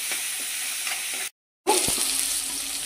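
Vegetables fry in a pan for veg manchurian gravy, giving a steady close sizzle with a few stirring scrapes and a brief silent gap partway through.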